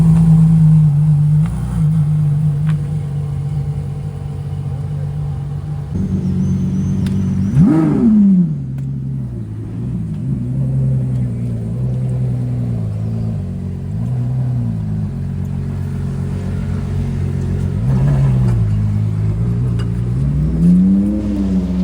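A car drives and revs on the streets of Monaco during the Formula 1 Grand Prix weekend, its engine droning steadily with several sharp revs climbing and falling, loud and fairly close, with no talking.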